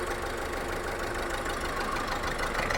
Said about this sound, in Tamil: சார் ஸ்டார்ட் பண்ணுங்க. இப்போ வண்டி ஐடிங்கில் தான் ஓடுது.